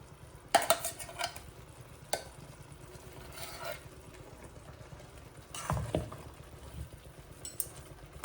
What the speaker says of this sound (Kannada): ಇದು ಸ್ವಲ್ಪ ಫ್ರೈ ಆಗಬೇಕು ಚೆನ್ನಾಗಿದ್ರಲ್ಲಿ